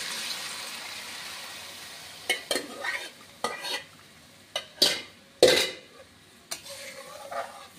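Egg halwa stirred in a pan: a soft low sizzle under a series of sharp spoon scrapes and knocks against the metal, irregular and close, with no talk.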